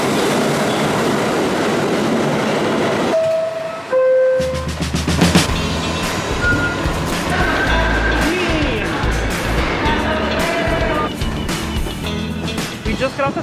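Local subway train in New York City at Christopher Street station, heard from the platform and inside the car, a loud rumble with clattering wheels, brief pure-toned squeals and chimes, people talking over it throughout.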